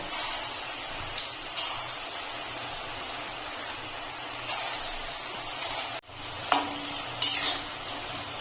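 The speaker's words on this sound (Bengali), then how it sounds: "কড়াতে আমি তেল গরম করতে বসিয়েছি এখন ডাল বাটাটা দিয়ে ছোট ছোট বড়া করে নেব" Small fritters of ground lentil paste fry in hot oil in a kadai, a continuous close sizzle broken by a few utensil clinks and scrapes.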